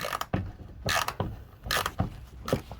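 Loose bolts being worked off around the outer edge of the plastic under tray on a Kia Sportage 1.6 T-GDI, a series of close metallic clicks, scrapes and ratcheting bursts in uneven rhythm, with no talking.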